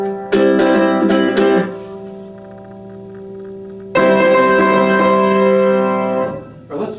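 A chord is strummed on a ukulele, first as a few quick plucks, then let ring, then strummed again and held, close and clear.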